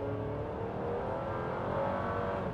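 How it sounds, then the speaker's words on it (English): A 2024 Chevrolet Traverse with a 2.5-liter four-cylinder turbo engine accelerates, its steady engine drone rising slightly in level from inside the cabin, heard alone without talk. "We'll just go ahead and stop here and then accelerate so you can hear."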